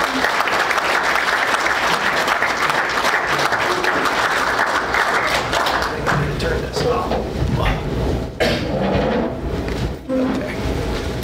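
Sustained audience applause in a university lecture setting welcoming Dr. Rahul Shrivastav, University of Georgia, a dense steady clapping that thins and fades toward the end.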